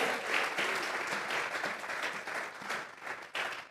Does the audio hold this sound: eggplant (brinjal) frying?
no